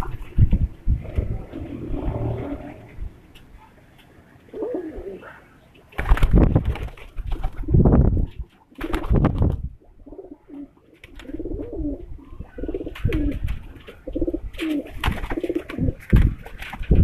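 Pigeons coo in repeated soft, throaty phrases, with several louder bursts and some wing flapping mixed in, close and continuous throughout.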